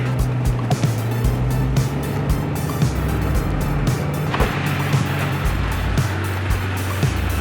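A Porsche Boxster S driving a lap of the Nordschleife: a steady engine drone rises and falls with speed, with wind and road rumble and occasional bumps throughout.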